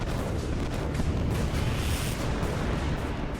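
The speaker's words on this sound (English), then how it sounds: "More and more Austrian cannon are pulled up and begin to pulverize the French line." Austrian cannon firing on the French line in a Napoleonic battle at Marengo, a dense continuous rumble of artillery blasts overlapping without clear gaps, loud and sustained throughout.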